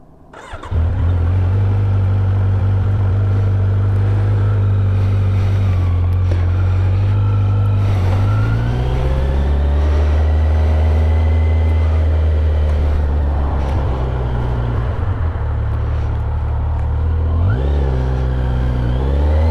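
A Kawasaki Z900 motorcycle at speed gives a loud, close engine drone that holds steady and shifts in pitch as the rider eases off and accelerates. Rushing wind sits underneath.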